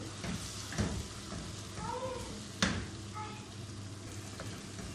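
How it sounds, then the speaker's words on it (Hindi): Pan-frying for a potato chicken curry, a steady sizzle and crackle of frying food with occasional utensil knocks, faint in the background, and a brief cat-like whine in the middle. "अब इनको भी अच्छी तरह फ्राई कर लेंगे।"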